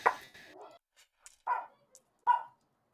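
Dog barking during a tabletop game session, a few sharp separate barks at moderate distance, with a short yelp at the start and quiet gaps between.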